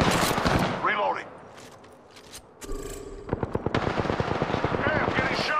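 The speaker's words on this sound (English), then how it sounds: "They're shooting at me." Rapid automatic gunfire in the video game Apex Legends, loud bursts of rattling shots at the start and again through the second half, with a brief quieter gap between them.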